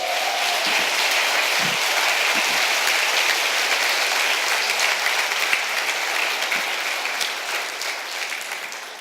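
A church congregation breaks into sustained applause for the Lord during a sermon, a dense, loud roar of many clapping hands that carries for around nine seconds before easing off slightly at the end.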